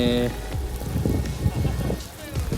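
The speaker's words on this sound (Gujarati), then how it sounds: "આ જોઈ શકો છો વરસાદ ચાલુ થઈ ચૂકી છે." Rain patters steadily on a surface nearby, with scattered drips and splashes and a faint murmur of background noise.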